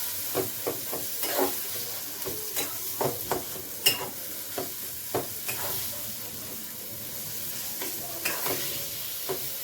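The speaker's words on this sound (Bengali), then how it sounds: "এবার মশলাটা ভালো করে এটার সঙ্গে মাখিয়ে নেব" Shim beans and prawns tossed with spices in a sizzling pan in a Bengali home kitchen: a continuous frying hiss under a run of sharp, irregular stirring knocks and scrapes, close and without speech.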